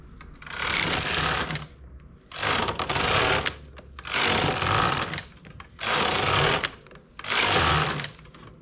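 A knitting machine knits rows for a narrow, firm edging band, heard as five loud, rattling mechanical sweeps, each lasting about a second and a half and separated by short pauses, with no talking.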